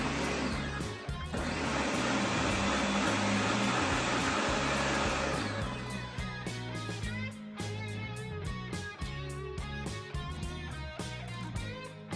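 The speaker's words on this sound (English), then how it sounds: "then you put it in the blender to food process it" A loud, steady mechanical whir of a blender puréeing salsa runs throughout, its pitch wavering as the motor grinds through the contents.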